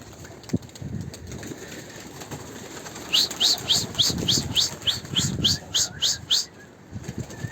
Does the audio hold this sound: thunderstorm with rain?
no